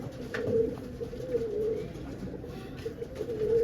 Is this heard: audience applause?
no